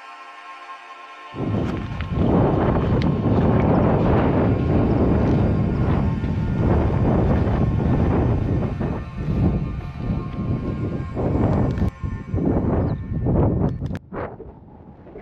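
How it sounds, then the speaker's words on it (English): Heavy wind buffeting the microphone in a constant loud roar with gusty surges, starting abruptly after a quieter opening and cutting off near the end, in the Brecon Beacons. "Windy and you might not be able to hear me"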